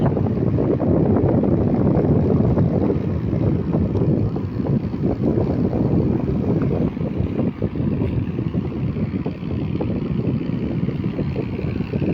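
A trawler at sea off Chattogram gives a steady, loud rumble of engine and water, mixed with gusty wind buffeting the microphone, unbroken for the whole stretch with no voices.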